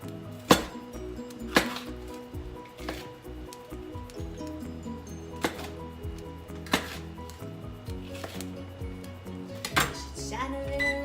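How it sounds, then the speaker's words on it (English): Peppers being cut with a knife on a cutting board in a home kitchen, with sharp, spaced knocks roughly once a second over dull handling sounds and light utensil clinks. "And I'll cut these peppers."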